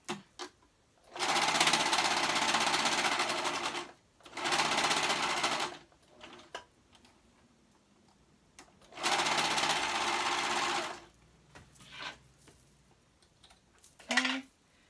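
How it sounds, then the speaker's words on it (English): Serger overlocking fabric seams in a sewing-pattern project, running in three long bursts of steady rapid stitching with short quiet gaps and a few brief handling clicks between, close and clear. "But I just like to do everything on my serger."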